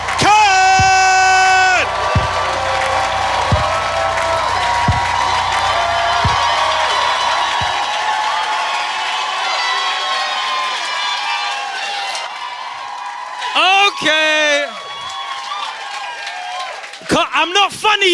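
A stand-up comedy audience cheering, whooping and clapping in a loud, sustained roar, which fades as a comedian starts talking over it, followed by short bursts of laughter and cheers.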